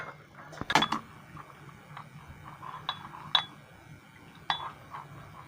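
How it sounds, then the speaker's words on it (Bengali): A spoon stirring cornflour into hot milk, sparse light clinks of metal against the vessel's side scattered over a few seconds, fairly close and quiet, with no talking. "এবার এই কর্নফ্লাওয়ারটিকে আমি মিশিয়ে নিচ্ছি ভালোভাবে, দুধের সাথে একেবারে ভালোভাবে মিলিয়ে মিশিয়ে নিচ্ছি।"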